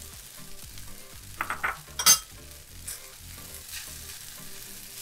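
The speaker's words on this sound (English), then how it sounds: "give this a good stir, and I'm gonna let this crisp up a little bit, the rice" Fried rice with pineapple stirred in a hot pan, a steady close sizzle of crisping rice broken by scraping stir strokes and a few louder clatters of utensil on pan.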